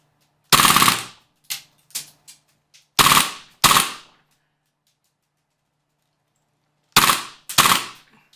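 Sharp airsoft gun shots from a WE Tech Knights Armament PDW, fired in short irregular bursts and single cracks with brief echoing tails, loud and close, separated by silent gaps.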